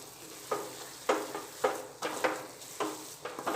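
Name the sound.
stirring farali sukhdi batter in a pan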